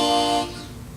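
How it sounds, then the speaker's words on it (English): A harmonica note is played with the hands cupped tightly around the instrument, a single short, bright, reedy tone that muffles and fades within a second, heard alone. "Okay, and now when we actually cup it,"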